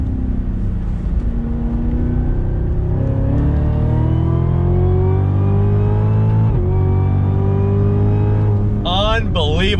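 A Cadillac CTS-V performance sedan pulls hard out of a turn, its V8 engine roaring up through the revs in steady rising sweeps, a short dip for a shift midway, with a voice speaking over it at the end.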